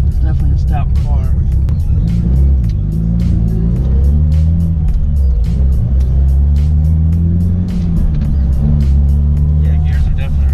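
A 2003 Mitsubishi Evo 8 with a tuned four-cylinder engine making about 500 horsepower, idling and rumbling steadily in the background while people talk continuously over it.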